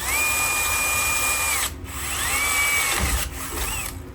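A power drill bores into stainless steel aboard a sailboat during metalwork, a loud, close, continuous motor whine that dips in pitch under load, with brief pauses and restarts.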